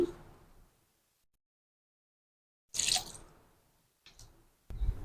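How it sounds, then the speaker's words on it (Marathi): Water is poured onto flour for dough in a few short splashing bursts, close by, separated by quiet pauses. "थोडं थोडं पाणी घालून"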